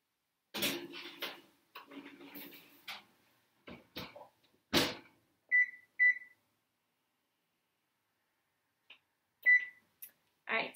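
Oven timer on a home kitchen oven giving short electronic beeps as it is set, a couple of quick pairs of tones with faint kitchen clatter and handling noises in between, fairly close and otherwise quiet.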